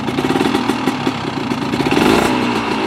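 A two-stroke Cagiva motorcycle engine runs close by with a rough, rattling idle, then revs up briefly, loud and buzzy throughout.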